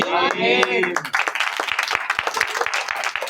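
A church congregation claps after a sermon, with dense applause from many hands following a voice that trails off at the start.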